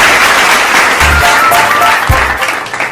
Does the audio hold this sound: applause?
yes